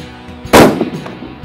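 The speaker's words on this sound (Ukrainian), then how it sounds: "виконуємо перший постріл" A single loud, close gunshot from a Blaser R8 Ultimate rifle fired at a small target, a sharp crack followed by a short rumbling echo that fades within a second.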